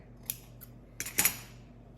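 Scissors snip through a paper napkin in a few quick, close cuts, two spaced single snips followed by a rapid cluster of crisp clicks and rustles, with no voices.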